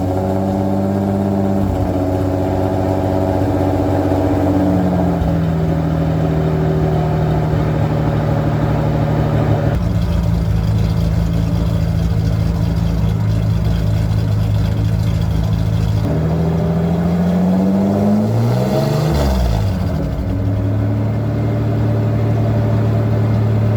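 A 1988 Ford Bronco II engine with a Flowmaster exhaust idling with a deep rumble, then revved several times, rising and falling in pitch, with one sharper blip near the end, loud and close with no talking.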